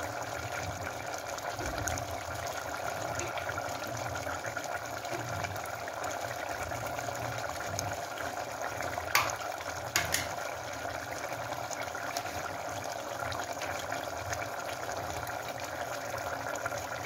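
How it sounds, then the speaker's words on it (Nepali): Ginger and garlic fry in a pan for a Nepali-style chicken curry gravy, a soft, continuous sizzle with faint bubbling, quiet and steady, with a couple of brief clinks partway through. "यति म अदुवा लसुन हाल्दैछु"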